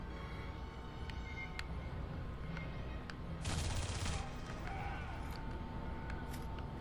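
Rapid gunfire in the game Aliens: Colonial Marines, Stasis Interrupted campaign, a steady dense crackle of shots running throughout with one louder burst partway, over constant background noise.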